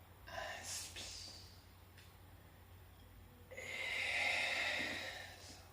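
Audible inhalations and exhalations during a Pilates exercise at home, with a short breath at the start and a longer, fuller breath drawn in later, close and fairly soft.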